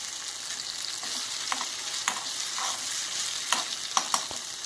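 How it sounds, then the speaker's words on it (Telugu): Red chilli chutney fries in hot oil with a steady close sizzle, broken by occasional soft scraping clicks as it is stirred in the pan. "ఇట్లా కొంచెం వేగి ఆయిల్ బయటికి వచ్చే వరకు వేపేసుకొని దింపేసుకోవచ్చు"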